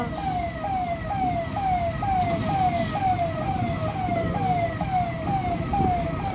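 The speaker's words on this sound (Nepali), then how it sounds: "एम्बुलेन्सलाई चाहिँ ठाउँ दिनुपर्छ है" Loud wailing siren of an ambulance, repeating a rapid rising-and-falling cycle over a steady rumble of road traffic.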